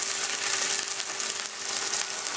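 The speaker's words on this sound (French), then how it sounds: "C'est vraiment histoire de les faire revenir." Rastegs pastries fry in hot oil in a pan while being turned, a steady, close, loud sizzle and crackle throughout with no voices.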